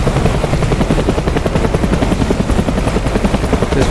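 A Cobra attack helicopter in a flight-simulator game, its dense rotor thump and turbine roar running steady and loud without a break, with no voices over it.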